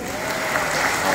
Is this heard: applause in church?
yes